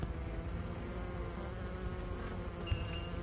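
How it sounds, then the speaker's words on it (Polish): Honeybees at an open hive, plump and calm, give off a steady, even buzz that fills the space close by, with one brief sharper note near the end. "Ładna, błyszcząca, okrąglutka pszczoła"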